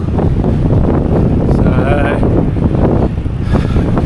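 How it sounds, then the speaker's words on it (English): Strong wind buffeting the microphone on a road cycling ride around Perth, a loud continuous roar and rumble filling the whole clip, with faint tonal sounds briefly showing through. "So still fighting the wind."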